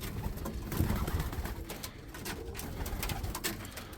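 Racing pigeons coo softly in a loft, several low, throaty calls overlapping and repeating, close by with light fluttering and rustling between them and no talking.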